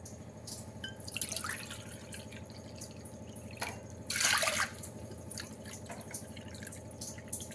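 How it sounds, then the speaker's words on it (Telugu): Three cups of water trickle and splash into a pot of dal nearby, with a few louder gushes and drips over a low steady hum. "మూడు కప్పులు వాటర్ వేసుకున్నాను."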